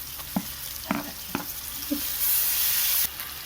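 Ginger garlic paste and tomato sizzle in a pan for Chettinad chicken curry, a soft steady fry with a few short stirring scrapes and a brief louder hiss near the end, no talking.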